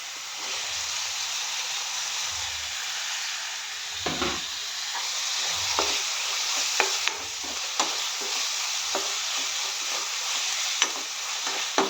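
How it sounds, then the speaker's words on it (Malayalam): Clam meat, tomatoes and curry leaves sizzle and fry steadily in a pan, with a continuous hiss and occasional sharp stirring clicks and scrapes, close and alone without any talk. "ഇനി തക്കാളി ഇട്ട് കൊടുക്കാം."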